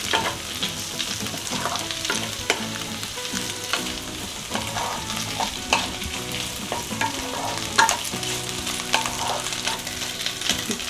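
Chicken sautéing in butter in a pan for a creamy malai-style dish, a steady close sizzle with frequent scraping and stirring clinks from a utensil, no voices.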